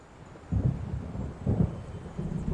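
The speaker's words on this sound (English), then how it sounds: "It seems there's a storm coming." Thunderstorm in the video game Alan Wake, low rumbling thunder rolling in two swells over a soft windy background.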